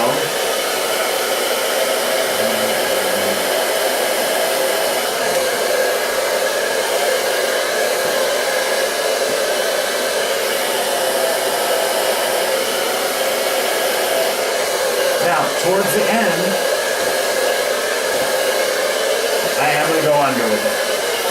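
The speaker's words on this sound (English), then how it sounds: "dryer nozzle right on top of the brush and bring it down" A hair dryer blows steadily and close for the whole stretch, its nozzle aimed onto a round brush pulled down through hair during styling, with only faint brief shifts in the airflow.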